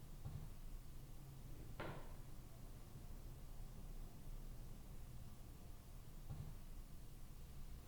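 A car door shutting outside a stone mansion, heard from indoors as a few faint, muffled thumps, one sharper than the others, over a steady low hiss.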